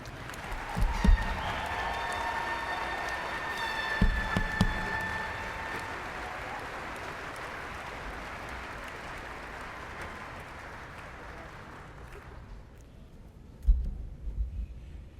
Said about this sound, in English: Would you join me in applauding our master's graduates?